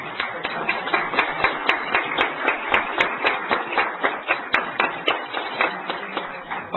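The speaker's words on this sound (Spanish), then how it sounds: "ambos merecen un fuerte aplauso de ustedes" An audience at an academic conference on international contracting and arbitration claps at a recess, the individual claps distinct and fairly regular, moderately loud, with no talking.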